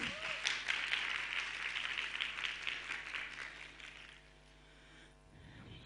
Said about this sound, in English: Please do give her a round of applause again.